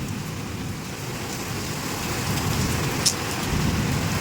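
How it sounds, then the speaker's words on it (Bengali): Heavy rain pours down during a thunderstorm, a steady, dense wash of hiss that holds at an even level throughout, with one brief sharper tap near the end. "যেই স্কুলটা শুরু হলো অমনি শুরু হয়ে গেছে এরকম বৃষ্টি"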